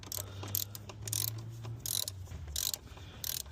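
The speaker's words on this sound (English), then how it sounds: "Counterclockwise with the ratchet." Ratchet turning counterclockwise on a 10 mm bolt during a thermostat replacement on a 2007 Chrysler Pacifica, a series of close, quick clicking bursts separated by short pauses, alone without talk.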